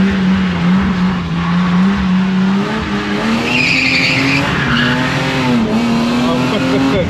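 A BMW 325i drifting, its engine droning steadily while the tires squeal and skid loudly and continuously, heard up close from inside the car.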